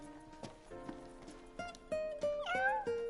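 A cat in the game Final Fantasy 15 gives a short run of meows, several close, tonal calls in a row, the last few rising and bending in pitch.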